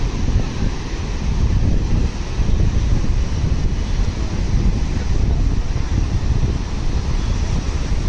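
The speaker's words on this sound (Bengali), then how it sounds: "প্রচণ্ড ঢেউ, আর স্রোতের আওয়াজগুলো শুনতে পাচ্ছ" Heavy sea waves and strong currents crash at night, a constant loud rumbling surge with buffeting wind noise on the microphone and no speech.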